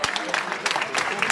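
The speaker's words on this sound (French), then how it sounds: "vous les applaudissez très très fort." Brief, fairly faint clapping from an audience at a culinary diplomacy event, welcoming guests from Côte d'Ivoire, with a voice speaking over the applause.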